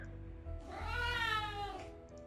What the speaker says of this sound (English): The ghost cat sweeps down from the sky, scooping up a young Tanuki in its mouth and plopping it on Tsubaki's chest.